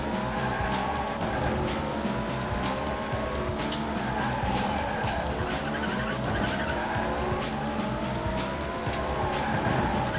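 In the PS1 rally game Colin McRae Rally 2.0, a car slides sideways on tarmac with a steady, loud engine roar and continuous tyre squeal running unbroken throughout.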